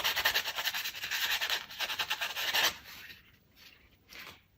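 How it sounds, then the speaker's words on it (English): Fine sandpaper of 400 grit rasps lightly over an acrylic keychain blank in quick back-and-forth strokes, loud and close for most of the stretch before easing into softer, scattered rubs. "go ahead and lightly sand the surface"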